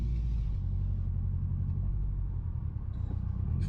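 Subaru Impreza turbo engine rumbling at a steady low drone while boost builds, heard continuously and fairly close with no talking.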